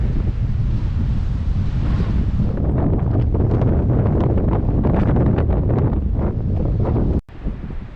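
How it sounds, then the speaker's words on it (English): Rough sea waves surge into a rock tunnel on the Cornwall coast near Land's End, a loud continuous roar of surf heavily buffeted by wind blowing across the microphone. "See when the waves come in this tunnel."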